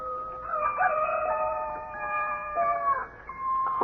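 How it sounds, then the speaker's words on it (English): Rooster crowing as a radio drama sound effect: a long, drawn-out cock-a-doodle-doo with layered tonal calls, fairly close and clear over a faint background, with no talking. "beckoned by a rooster somewhere, doing his thing."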